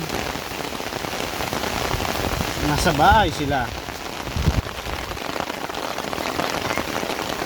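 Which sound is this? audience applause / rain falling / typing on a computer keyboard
rain falling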